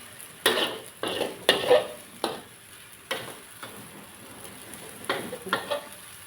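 Glass noodles are stir-fried in a pan with a pork, egg and greens dish, sounding as repeated scraping and clanking strokes of a utensil over a soft sizzle, close and fairly quiet.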